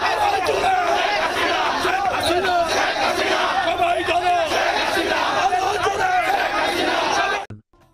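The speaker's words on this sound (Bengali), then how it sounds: "চারদিক থেকে শোনা যাচ্ছে জয় বাংলা স্লোগান" A large crowd at a political rally in Dhaka chants the Joy Bangla slogan, loud massed voices shouting in steady rhythmic waves for about seven seconds before cutting off abruptly.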